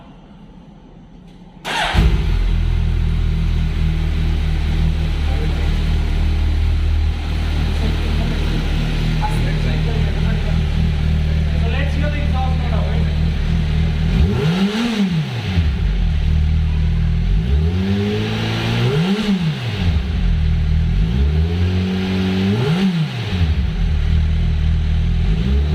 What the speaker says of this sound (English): I'm about to crank up the 2021 Hayabusa.